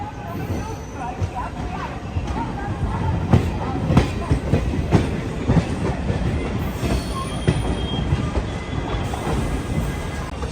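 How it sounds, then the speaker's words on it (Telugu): A DEMU train pulls out of Secunderabad station, with close rhythmic wheel clatter over rail joints, squealing wheels and carriage rumble, while passengers murmur in the background. "సికింద్రాబాద్లో మన ట్రైన్ బయలుదేరింది కదా"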